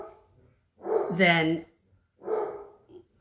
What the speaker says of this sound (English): Sorry, the dogs are going to start barking now.